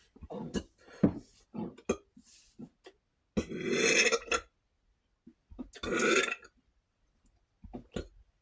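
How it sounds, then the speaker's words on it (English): A person lets out a series of wet water burps, short throaty croaks scattered irregularly with two longer, louder rumbling belches among them, close and alone with quiet gaps between. "You could tell those are water burps. You could hear the water."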